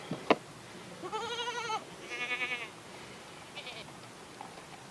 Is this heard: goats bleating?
yes